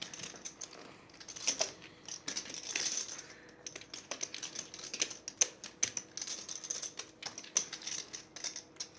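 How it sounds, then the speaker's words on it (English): Clay poker chips clicking and riffling in quick irregular bursts at a $1/3 no-limit hold'em cash table at Champions Club in Texas, a soft clattering spread across the whole stretch over quiet casino room murmur. "This is, yeah, Chip shuffling."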